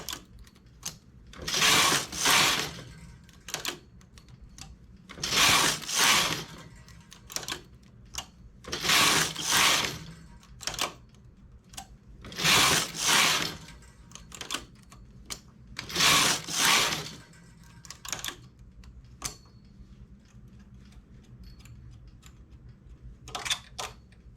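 A knitting machine works through a balaclava in repeated rapid clattering passes, each burst lasting a second or two with short pauses between, up close and fairly loud, with quieter mechanical clicks in the gaps.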